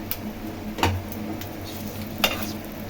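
Egg sandwich cooking in a pan, a steady low sizzle broken by two sharp clicks or scrapes, close and fairly loud.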